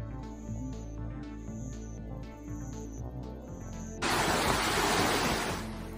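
Floodwater from the overflowing Taihei River in Akita rushes during a severe storm, a dense roar of turbulent water that swells loudly partway through, with musical tones sounding beneath it early on.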